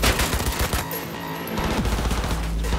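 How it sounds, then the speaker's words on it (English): Loud, close bursts of automatic gunfire in Cyberpunk 2077, rapid rattling shots in dense continuous volleys with a brief lull midway. "Who's shooting at me?"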